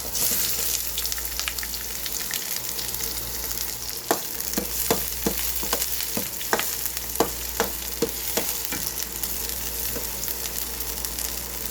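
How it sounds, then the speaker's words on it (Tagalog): Garlic and onion sauté in hot oil in a pan for beef with broccoli, a continuous loud sizzle broken by a series of sharp, regular scraping clacks from the spatula stirring, with no voices. "Ayan, gigisahin lang natin ang bawang. At sibuyas."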